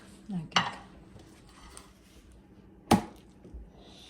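A serving dish is set down with two sharp ceramic clinks a couple of seconds apart, close and distinct against a quiet room.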